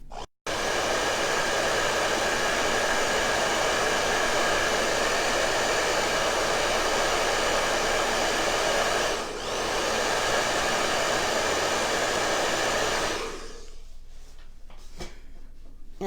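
A hand-held dryer blows hard on freshly piped decorated icing, a loud, steady rushing whoosh that carries on for several seconds with a brief dip midway, then cuts off, leaving quieter background.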